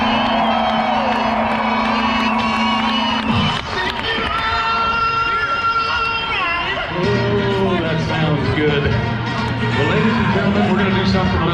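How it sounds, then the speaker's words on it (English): A rodeo crowd bursts into a loud, sustained cheer with whoops and shouting, a dense wall of voices carrying on for several seconds, with a tonal horn-like drone underneath. "Everybody on the count of three, let's give them a cheer."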